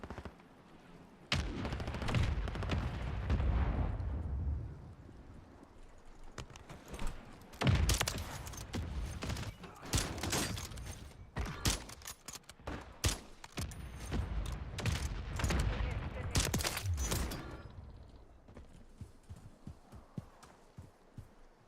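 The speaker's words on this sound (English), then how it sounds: "Mortar strike inbound now." Mortar strike explosions in a battle royale video game: a rapid series of heavy, booming blasts and crackling impacts that come in dense bursts over about twenty seconds, with short lulls between and no voices.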